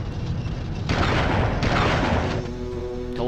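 Heavy booming shotgun blasts from the video game Army Men: Sarge's Heroes, two loud broad bursts in quick succession with a rumbling tail, followed by a short tonal game sound.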